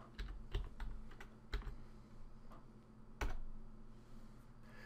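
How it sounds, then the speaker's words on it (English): Keystrokes on a computer keyboard at a Windows 10 command prompt, a quick run of close, sharp clicks with short pauses and one louder key press near the end, over a steady low hum. "now we can type exit"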